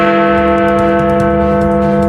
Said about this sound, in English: Big Ben is chiming to commemorate the moment that the guns went silent.